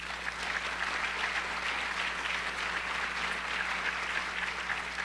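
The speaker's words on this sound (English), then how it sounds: "Let's give them a round of applause." A school audience at a National Honor Society induction claps steadily for about five seconds, a dense, even wash of applause filling the room at a constant level with no voices standing out.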